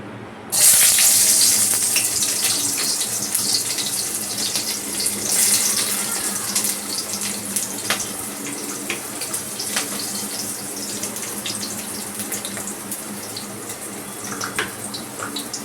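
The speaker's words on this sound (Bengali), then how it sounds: "এর মধ্যে আমি প্রথম পেঁয়াজটা দিয়ে দেবো।" Onion drops into hot mustard oil and sets off a sudden loud sizzle. The sizzle then holds as a dense, steady hiss for over a dozen seconds.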